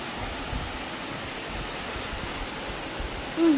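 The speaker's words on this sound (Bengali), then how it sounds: "এখন বাইরে বৃষ্টি নেমে গেছে" Steady rain hisses outside, an even, soft wash of falling water with no voices.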